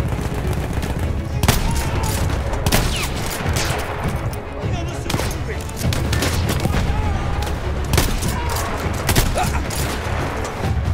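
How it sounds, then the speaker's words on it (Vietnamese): Enemy gunfire in the PC video game Battlefield 1 single-player campaign: dense overlapping rifle and machine-gun bursts with booming impacts, loud and continuous, under occasional talk. "Tụi này nó bắn căng đét luôn các bạn."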